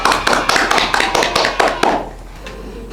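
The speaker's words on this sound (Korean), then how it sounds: "한번 자축의 박수를 한번 할까요?" A small group at an art academy session claps to celebrate their own award wins, about ten crisp, close claps in a quick, fairly even rhythm that stop abruptly after two seconds, followed by near quiet.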